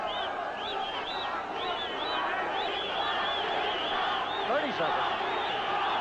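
A boxing arena crowd keeps up a loud, continuous roar and a rising chant for fighter Bobby Chacon, while a commentator talks over it.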